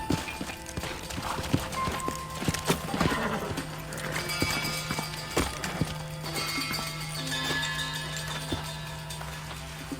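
Horses' hooves clip-clop at a steady trot in the Red Dead Redemption video game, with occasional whinnies over a continuous background hum and score, no talk.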